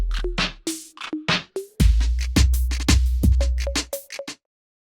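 Sampled keyboard notes from a Kontakt 6 instrument with strong pitch envelope modulation, each pressed key swooping in pitch; a run of short repeated notes, some with deep low body, played close and loud with no talking.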